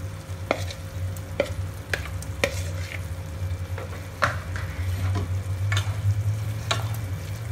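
Marinated prawns in a pan with cashew nut powder, sizzling steadily under a spoon that scrapes and stirs. The knocks of the spoon are sharp and come at irregular intervals against the constant fry.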